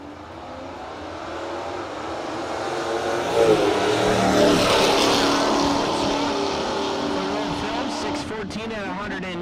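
At a no-box drag racing event, cars launch down the strip with a loud, building engine roar that swells and holds, rough and rumbling, while an announcer talks over it.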